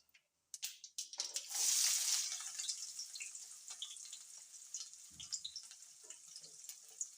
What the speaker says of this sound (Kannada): ಈಗ ಈರುಳ್ಳಿ ಹಾಕ್ಯಂತ ನೋಡ್ರಿ.